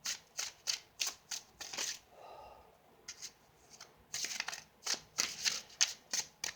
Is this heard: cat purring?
no